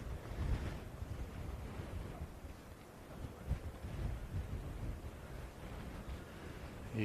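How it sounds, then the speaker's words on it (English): Steady wind buffets the microphone on the exposed west coast of Scotland at an outdoor golf tournament, a continuous low roaring rumble with gusty swells and no voices. "It's windy. It's the west coast of Scotland."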